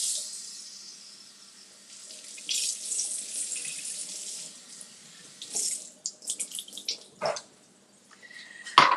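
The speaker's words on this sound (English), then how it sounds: "let me rinse off my blueberries" Tap water runs steadily into a sink as blueberries are rinsed, a continuous splashing hiss that shifts as the berries are moved under the stream, ending with a few clatters and drips.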